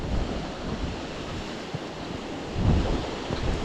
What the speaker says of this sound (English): Nice water rapids coming down there.